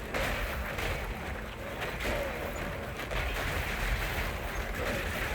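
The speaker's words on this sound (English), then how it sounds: "See all these lovely little lightning explosions that we get." Dense bursts of crackling lightning explosions from the action game Path of Exile 2, a continuous loud barrage of overlapping blasts and thumps with no pauses.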